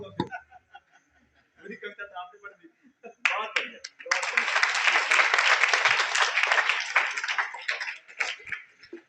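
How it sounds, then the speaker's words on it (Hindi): Audience at a motivational seminar in a school applauding a speaker: after scattered talk and light laughter, a dense burst of clapping swells up and continues loudly for several seconds before tapering off. "तालियां उमंग के लिए"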